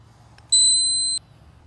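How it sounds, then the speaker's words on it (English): A Swing Beep golf putting aid gives a single sustained electronic beep, clean and high-pitched, lasting under a second during the putt follow-through in a quiet room. "If you're doing the right follow-through, Swing Beep will beep."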